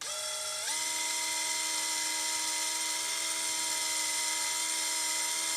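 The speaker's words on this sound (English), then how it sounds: "Put a little bit on a drill" A small rotary drill spinning with lapping compound while cleaning a carburetor part whirs steadily at high speed, a constant buzzing whine that steps up in pitch early on and then holds evenly.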